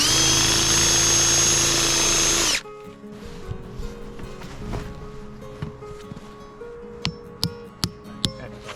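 A loud power drill whines steadily for a couple of seconds as it drills upward into a maple tree, then stops, leaving quieter outdoor rustling and a few sharp knocks.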